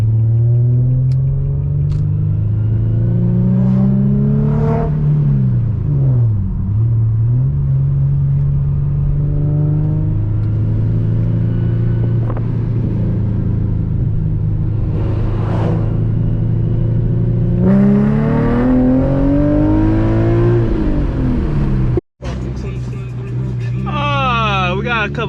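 An Infiniti G37 fitted with an ISR single exit GT exhaust pulls hard from inside the car, its engine note climbing through repeated rising revs, loud and close, with a brief cut near the end before another sharp climb.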